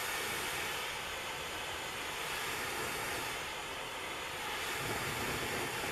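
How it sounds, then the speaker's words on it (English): Welder's torch burning through foil during a burn test, a loud, steady roaring hiss that fills the whole stretch without pause. "This is a welder's torch, so I'm able to go right through it."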